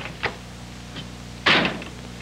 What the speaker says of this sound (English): Now, this door is equipped with Ford's new LifeGuard double-grip door latch.